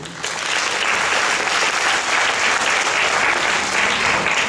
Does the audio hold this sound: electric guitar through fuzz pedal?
no